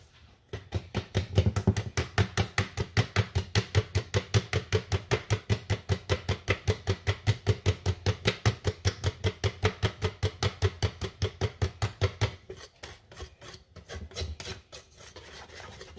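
Batter for a pineapple pound cake filled with cherries and pineapple being beaten by hand in a bowl, a steady rapid rhythmic scraping and slapping that runs nearly continuously, then slows and thins toward the end, with no talk.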